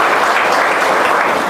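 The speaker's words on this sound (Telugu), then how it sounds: "అలాంటి మనిషికి మరి మనం ఈరోజు గట్టిగా మరి ఇంకొకసారి చప్పట్లు పెట్టి" Dense, steady applause from a crowd at a free food distribution event honouring Dr. Samaram, continuous and close with no talk over it.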